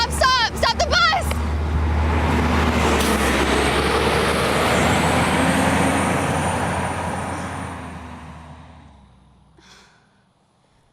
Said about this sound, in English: Stop the bus!